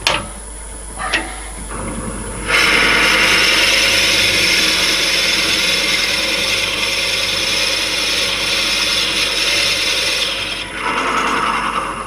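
A power drill whines steadily and loudly as it bores into a steel disc at about 600 to 700 RPM, a harsh continuous grinding that lasts several seconds after a brief start-up.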